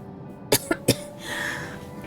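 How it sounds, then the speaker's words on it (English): A person with a recent cold coughs three times in quick succession, sharp and close, then falls quiet with faint background sound from a game running underneath. "Trying to think about that word right there make me cough."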